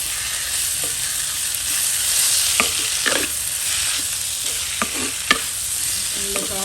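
Green chilli, ginger-garlic paste and tomato fry in a pan with a steady close sizzle, broken by several sharp scrapes and knocks of a spoon stirring through the mixture, with no talk.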